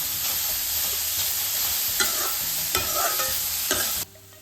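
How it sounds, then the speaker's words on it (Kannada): Grated carrot for halwa fries in a pan over a medium flame, with a constant loud sizzle and repeated scraping stir strokes at irregular intervals before it abruptly quietens. "ಇದನ್ನು ಹಸಿ ವಾಸನೆ ಹೋಗುವವರೆಗೂ ಪದೇ ಪದೇ ಕಾಯಿಸ್ತಿರ್ಬೇಕು."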